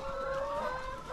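A chicken clucks steadily at close range, a continuous throaty call with no voices around it.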